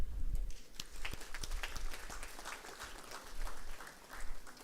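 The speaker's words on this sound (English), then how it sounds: "I will call upon all to have a big clap for them." A graduation ceremony crowd claps steadily and fairly loudly, a dense patter of hands without pause.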